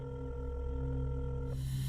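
A telephone rings on an incoming call, a steady electronic ring tone sounding alone for over a second before cutting off.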